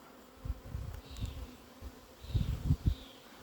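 Honey bees buzz around a hive, a soft low drone with individual bees swelling louder as they pass close, faint and outdoors with no voices.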